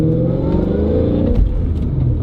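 An 800 bhp supercharged Mustang engine revs hard and pulls away, a loud, close, rough low roar with a steady throb that shifts pitch partway through as the car accelerates.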